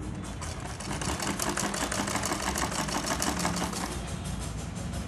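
A sewing machine stitches a collar on a churidar, running in a steady, fast mechanical rattle that continues without pause, fairly close and moderately loud.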